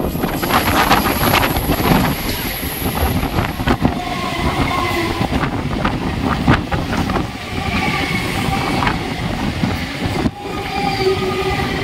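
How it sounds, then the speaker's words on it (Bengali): A Santragachi–Digha local train runs steadily at close range, with a continuous loud rumble and clatter of the carriages and a brief high whine near the start, with no voices. "ট্রেন কিন্তু খুব ভালোই যাচ্ছে আমাদের"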